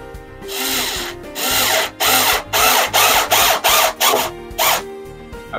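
A power drill drives screws into wooden greenhouse roof rafters, a close, loud series of about eight whirring bursts with short pauses between them and no talk.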